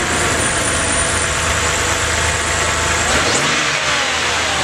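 BMW E90 engine fitted with a DIY cold air intake, revving loudly in a steady, sustained roar, close by and with no voices over it.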